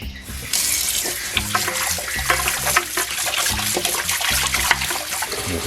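Tap water runs steadily into a sink as a raw pork tongue is rinsed by hand, a close, continuous splashing gush with small knocks and sloshes from the washing and no talk.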